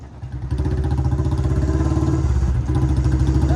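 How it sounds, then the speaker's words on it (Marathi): A Royal Enfield Bullet motorcycle on a stock silencer runs steadily close by, its single-cylinder engine thumping in a fast, even, loud beat with a brief dip partway through. "तर गाईज बघू शकता सार्थकच्या गाडीचा बुलेटचा आवाज बघा किती येतो"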